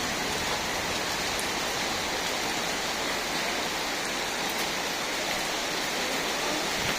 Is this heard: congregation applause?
no